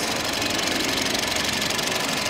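Honda Fit GE6 engine running in the engine bay, a steady, close mechanical idle with a fast even ticking rhythm and no talking.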